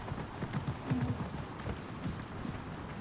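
Horse hooves clip-clopping in the video game Assassin's Creed Mirage, a faint, uneven series of soft hoof thuds under a low background hum, with no talking.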